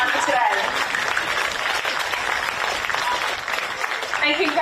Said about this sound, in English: a huge round of applause to both Southport and Bond University for making the grand final today